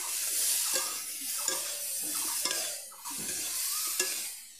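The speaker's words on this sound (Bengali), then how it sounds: "আমি এখন সয়াবিন আর আলুটা ভেজে নিচ্ছি ভালো করে" Soybean chunks and potatoes fry with salt and turmeric over a wood-fired clay stove, a steady close sizzle broken by several scraping stirs of a spatula against the pan.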